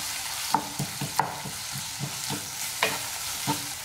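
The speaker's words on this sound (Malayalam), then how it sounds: "ഇനി നമുക്ക് ഇതിലേക്ക് ഇഞ്ചി വെളുത്തുള്ളി പേസ്റ്റ് ചേർത്ത് കൊടുക്കാം നന്നായിട്ടൊന്ന് മിക്സ് ചെയ്ത് കൊടുക്കാം" Ginger garlic paste stirred into sautéing onion for a vegetable kurma gives a soft, steady sizzle under regular spoon scrapes against the pan, each stroke a short clatter repeating about twice a second.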